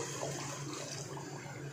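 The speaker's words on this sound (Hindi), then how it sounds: "और अब हम इसमें हाफ कप पानी डालेंगे" Half a cup of water poured into a pot of shahi chicken korma, degh style, giving a steady, continuous splashing rush that holds evenly throughout without pause, close and moderately loud, with no voices.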